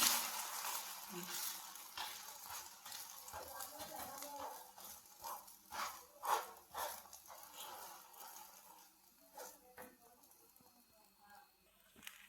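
Breakfast frying in oil in a pan, turned over partway: a quiet, steady sizzle broken by soft scrapes and clicks, with a faint voice now and then underneath.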